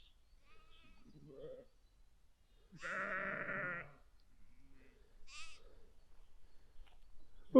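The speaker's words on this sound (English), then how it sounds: "Oh, sheep." Sheep on a countryside walk near Headcorn, with a ewe and young nearby, give one long wavering bleat and a shorter second call a moment later, close and clear amid quiet outdoor ambience.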